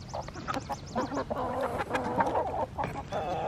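Several chickens cluck and call close by while standing in their feed, a busy overlapping run of short clucks and squawks.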